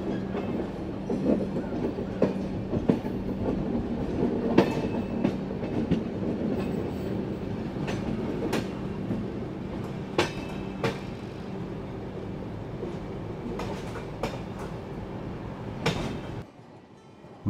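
An Indian Railways train runs steadily along the track, a continuous rumbling roar with repeated clicking and clacking of wheels over rail joints, heard from inside the carriage with no talk.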